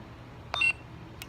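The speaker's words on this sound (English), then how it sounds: "you just press and hold till you hear one beep" One short, thin electronic beep from a Korbanth K4 Nano v4 lightsaber sound board while switching sound fonts, clear against a faint low hum, with a fainter blip just after.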